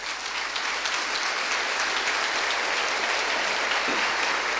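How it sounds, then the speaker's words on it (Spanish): Congregation applause at a church service, a dense, loud, steady wash of many hands clapping throughout, with no pauses. "démosle un aplauso bien fuerte."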